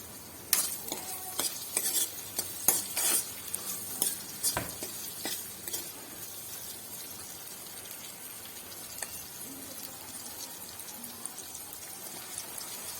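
Onion and tomato with a pinch of turmeric frying in a pan, with a spoon stirring and scraping in bursts over a steady soft sizzle, no talk.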